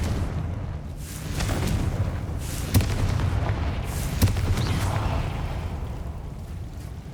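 A Confringo fire spell goes off in Hogwarts Legacy, two sharp booming blasts standing out against a steady rumbling in-game ambience.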